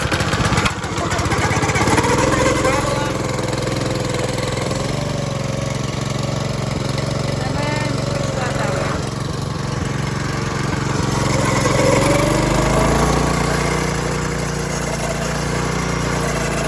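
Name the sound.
small engine of a wheel line mover starting and idling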